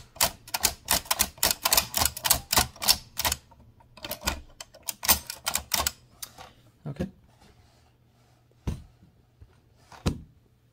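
A 1925 AEG Mignon 4 index typewriter clatters through a fast run of crisp mechanical strikes, then slows to a few separate clacks and thunks near the end, close and loud over a faint steady hum.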